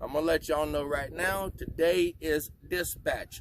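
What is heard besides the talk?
No distinct noise like a dog, phone or traffic.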